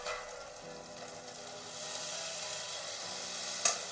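Bengali chilli and ginger paste with chopped tomato frying in a pan with onion and garlic, giving a soft, steady sizzle and hiss that swells slightly toward the end, with one brief sharp clink near the finish.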